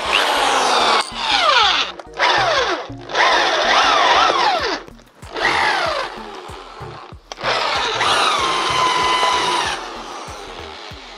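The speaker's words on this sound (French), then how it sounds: "Et percez pas les 6 trous." A power drill bores holes with a wood bit while making a punching bag, in several whining bursts with short pauses and a rising, straining pitch, loud and close.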